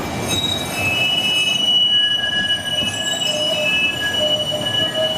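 Outbound Green Line light rail train at Portland Union Station, wheels squealing in steady high-pitched, drawn-out tones over a continuous rumble of rolling cars, loud and close throughout.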